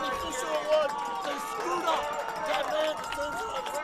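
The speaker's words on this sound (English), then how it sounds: "There's the Wycliffe crowd over here." Crowd of Wickliffe fans at a high school basketball game against LaBrae, a steady murmur of cheering and chatter with overlapping voices filling the gym.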